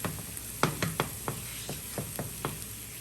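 Potatoes frying in a pan for a Bengali tuna fish dish, a steady close sizzle broken by about eight sharp spatula scrapes and taps at uneven intervals, with no talking.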